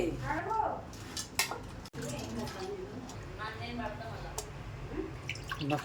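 Tamarind washed by hand in a pot of water, with soft sloshing, drips and the odd clink of the pot running steadily beneath people talking.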